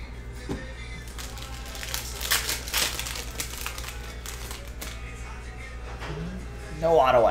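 Crinkly plastic wrapper of a 2020-21 Panini Mosaic basketball hobby pack being torn and crumpled open, a close, sustained rustling with sharper rips around the middle and faint voices near the end.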